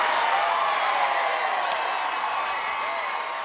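A college softball crowd in a Texas A&M versus Texas game cheers loudly after a strikeout, a dense roar of voices and whoops that stays strong and then fades slightly.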